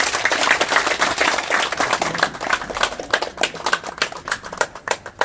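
A room full of people claps at an opening ceremony and signboard unveiling, with dense, steady applause that thins into scattered claps toward the end.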